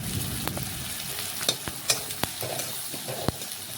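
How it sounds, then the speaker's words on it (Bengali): Chopped onions with a piece of bay leaf frying in oil, a soft steady sizzle broken by several sharp clinks and scrapes of a spoon stirring the pan, close by with no talking. "পেঁয়াজটা একটু দেখুন এইভাবে নাড়াচাড়া করে তেলের সাথে মিশিয়ে একটু লাল লাল ভেজে নেব"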